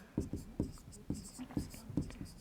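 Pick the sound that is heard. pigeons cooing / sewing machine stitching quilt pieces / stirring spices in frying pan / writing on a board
writing on a board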